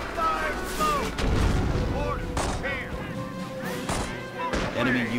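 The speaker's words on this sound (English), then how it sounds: "Lay down some mortar fire on that wire to clear the road." Mortar fire in Company of Heroes: heavy booms and thuds with battlefield rumble, layered under in-game voices.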